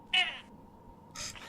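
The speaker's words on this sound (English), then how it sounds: "I can't say cool over the sounds of screaming cat people on fire" Cat people screaming while on fire in a video game, heard as two sharp, cat-like yowls separated by a short pause, fairly loud over a low background.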